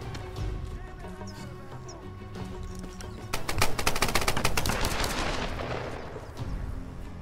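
A rapid volley of automatic gunfire in the multiplayer mode of the video game Tomb Raider, starting midway as dense repeated shots close by, then tapering off, with scattered game sounds before and after.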